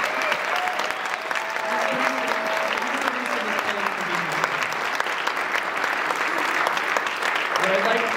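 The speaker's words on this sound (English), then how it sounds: "So I just want everyone to clap for this guy" Loud, steady applause from a crowd at a high school band concert runs throughout, with a few voices talking and calling out underneath.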